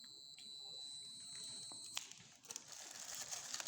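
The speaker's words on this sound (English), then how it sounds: "it's beeping to show that there is continuity there." A steady high-pitched electronic beep from a multimeter continuity test on ceiling fan wiring sounds for about two seconds, then cuts off, followed by faint clicks and handling noise.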